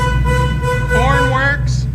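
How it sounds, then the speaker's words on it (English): The horn of a 1956 Chevrolet Bel Air custom car sounds as a loud, close, held blare with a rich, buzzy tone that runs without a break for about two seconds. "horn works"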